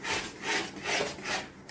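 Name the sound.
stirring Maggi noodles in a pan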